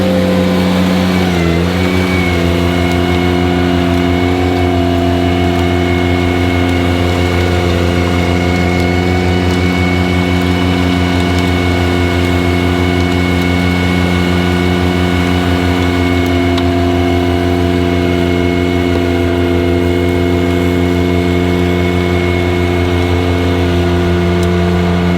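An engine catches on a start and then settles into a loud, steady throttled-up drone with a strong low hum, held evenly for a long stretch, close by and with no talking.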